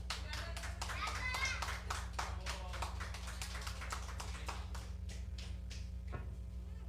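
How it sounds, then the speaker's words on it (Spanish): Hands clapping at a church gathering for the children, a dense run of claps that thins out toward the end, with a steady low hum underneath and children's voices mixed in. "un fuerte aplauso nuevamente"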